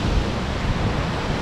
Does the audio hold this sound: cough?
no